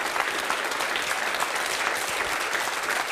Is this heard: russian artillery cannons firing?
no